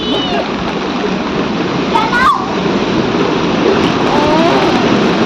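Water splashes and churns steadily through a knee-deep flooded street at the 20H Cross in Bangalore during heavy rain, a constant broadband rush with voices faintly audible in the background.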